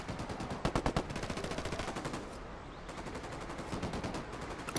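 Sniper and automatic gunfire in the Ghost Recon Wildlands video game, rapid bursts of sharp shots coming in quick strings with a short lull before another volley.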